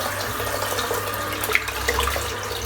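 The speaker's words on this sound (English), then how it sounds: "I'm just going to fill a bit of water in the sink." Tap water runs steadily into a bathroom sink, a continuous close splashing rush with a few brighter drips and plinks on top and no voices.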